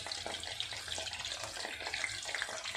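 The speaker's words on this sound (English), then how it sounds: "it will splatter a lot, because mushroom is having lots of water into it, so it will splatter over" Mushrooms deep frying in hot oil, a dense continuous hiss and crackle of splattering spits, fairly loud and close, with no talking.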